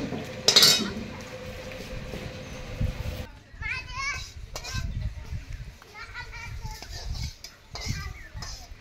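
Puffed rice chivda being tossed and mixed in a pan makes scattered clinks and rustling scrapes of a spoon against metal, with children's voices and someone talking over it.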